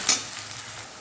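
A ginger, garlic, green chili and onion paste for chicken do pyaza sizzles in hot oil, a steady hiss opening with one sharp stirring scrape.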